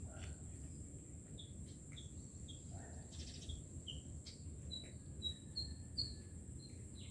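Many birds sing and chirp in the early morning over a steady, dense chorus of crickets, with short bright calls repeating near and far across an otherwise quiet outdoor scene.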